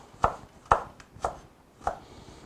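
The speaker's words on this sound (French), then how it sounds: "Nous allons couper en petits morceaux. I'm going to cut it in small pieces." A knife cuts garlic into small pieces on a board, four distinct, evenly spaced chops, close and crisp with quiet gaps between.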